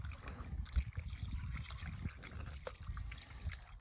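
Water pours steadily and trickles over a cow's prolapsed uterus as it is rinsed clean in a paddock during an emergency repair, a continuous close splashing wash with low rumble, no voices.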